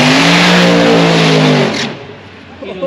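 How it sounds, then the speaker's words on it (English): Pink altered dragster doing a burnout, a loud sustained engine roar with strong harmonic drone that holds steady then cuts off abruptly, leaving a quieter rumbling tail. "Sounded really good in the burnout."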